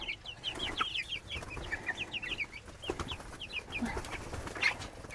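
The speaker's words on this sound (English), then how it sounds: "So we have 2 mid-sized chicken coops in here." Chickens in a farm coop cluck and chirp in quick repeated bursts close by, with a faint crow-like call near the end, over a low background murmur.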